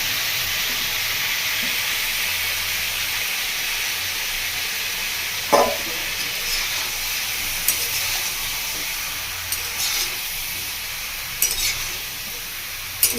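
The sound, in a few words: sliced onions and tomato frying in a kadai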